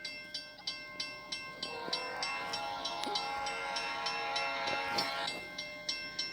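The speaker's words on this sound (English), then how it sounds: "There comes the oil train passing." An oil train led by a Santa Fe fake bonnet locomotive passing, rhythmic clicking of wheels over rail joints with a steady tonal hum and a swell of rumble midway, fairly faint, no talk.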